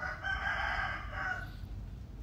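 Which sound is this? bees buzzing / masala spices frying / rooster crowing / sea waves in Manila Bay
rooster crowing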